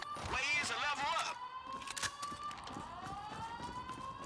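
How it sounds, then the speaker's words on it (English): An alarm blares during a heist in the video game Grand Theft Auto 5, a steady electronic tone running under a burst of voices and game noise, fairly loud and continuous. "Sounds like the alarm."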